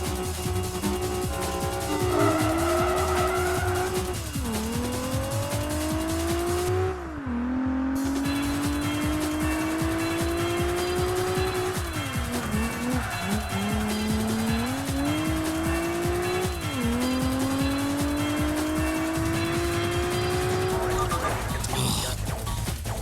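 A Nissan GT-R racing in Project Gotham Racing 3: its engine howls loud and close, rising through gear shifts with repeated drops between them, and tire squeal and skidding show up throughout.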